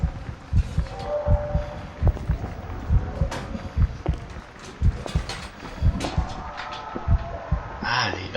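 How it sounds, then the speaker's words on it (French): A slowing heartbeat in the Call of Cthulhu video game, evenly spaced low thumps in a steady rhythm under a faint ambient hum, close and prominent. "Ah, les battements de cœur qui se ralentissent"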